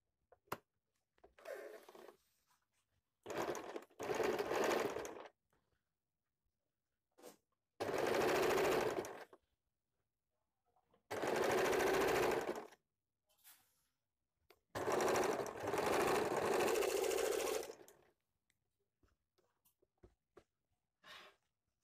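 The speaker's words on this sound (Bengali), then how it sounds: "এবার আমি সামনের এবং পেছনের পাটের শোল্ডার একসঙ্গে করে সেলাই করে নিচ্ছি।" Stitching the shoulder seams of a girl's top, a sewing machine runs in short separate bursts, several quick spurts and then longer steady runs of loud whirring, split by near-silent pauses and no voices.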